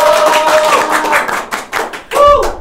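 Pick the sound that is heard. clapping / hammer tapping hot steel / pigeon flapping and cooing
clapping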